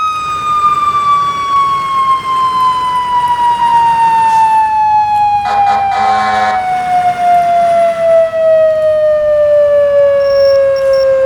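A fire engine siren in the EmergeNYC emergency-response game wails loud and close in a long falling sweep while responding through heavy traffic, with a brief burst of another horn or siren partway through.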